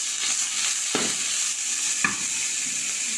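Chicken stir-fried in a pan with a little oil, a steady bright sizzle broken by two sharp scraping stirs, close and loud with no talking.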